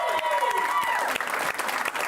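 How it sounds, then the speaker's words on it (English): Studio audience applause fills the clip at a Madden NFL 20 Club Championship final, a dense steady wash of clapping with some crowd noise and a voice speaking over it. "Let's give him one more round of applause from studio audience"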